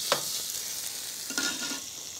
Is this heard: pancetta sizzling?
yes